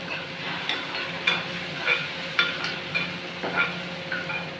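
Onions sautéing in a pan over a medium flame, a steady soft sizzle broken by several light stirring scrapes spaced about every half second, close and fairly quiet with no talk.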